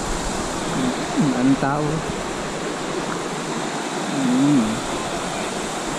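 Strong current of the Labi River in the mountains of Bongabon, Nueva Ecija, rushing as a steady broadband roar throughout, with people talking briefly over it.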